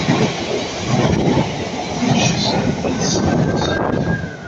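A Class 444 passenger train runs past at Clapham Junction, a loud, close continuous rumble of wheels and clacking over rail joints with a faint wheel squeal throughout, no speech audible.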